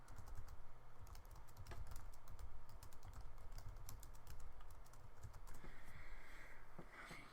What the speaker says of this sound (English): I'm going to type that in here so you can see where